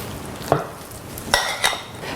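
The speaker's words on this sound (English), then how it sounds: "Add about 2 tablespoons and stir" Kale being stirred with a thick, creamy almond-butter dressing in a bowl, giving a few soft scraping clinks of a utensil against the dish over a quiet background.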